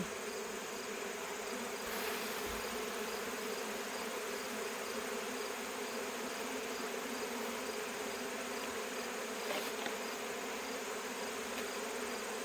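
Dense, steady buzzing of many bees swarming close around an opened hive, a continuous drone with no talk over it.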